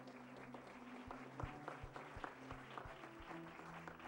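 A congregation at a Catholic Mass for the Feast of the Exaltation of the Holy Cross applauds steadily at a moderate distance. Soft sustained musical tones hum beneath the clapping.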